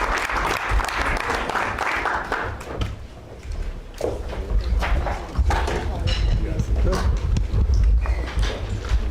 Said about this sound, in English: The North Korean applause.